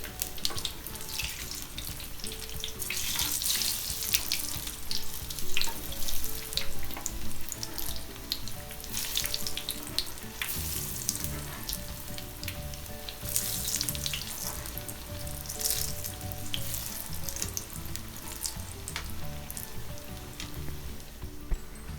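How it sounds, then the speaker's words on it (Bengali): Potato chops (aloo chop) fry and get flipped in hot oil, producing a dense, continuous crackling sizzle that stays loud and close throughout, with occasional sharper pops. "এই যে সবগুলো চপ দেওয়া হয়ে গিয়েছে এবং অপর পিঠটা ভাজা হয়ে গেলে আমি এটাকে উল্টে দিচ্ছি।"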